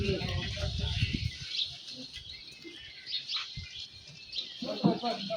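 Birds chirp and tweet at a bird house beside a cremation ground in Taki, with scattered calls rising over low rumbling and a few faint voices nearby.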